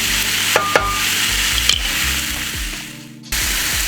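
Mushrooms frying in a pan for creamy polenta, a loud continuous sizzle with repeated scraping strokes of a spoon stirring them, briefly dipping before the hiss returns.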